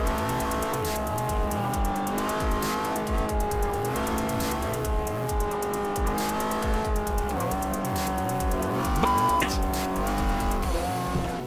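A race car in Forza Motorsport 4, driven with a gamepad, slides sideways with a steady, loud engine drone and rising and falling revs, with no voices over it.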